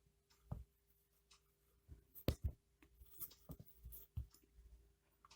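Pen or chalk writing out a maths solution on basic proportionality theorem problems during a lesson, heard as scattered short scratchy strokes and taps at close range in an otherwise quiet room, with no talking.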